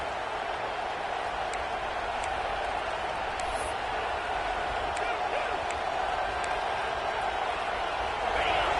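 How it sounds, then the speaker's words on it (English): Home stadium crowd at a Georgia versus Florida State college football game, roaring steadily as the defense tries to get off the field on third down; a constant wall of cheering noise with faint whistles and shouts throughout. "Here comes this home crowd as the defense tries to get off the field on 3rd down."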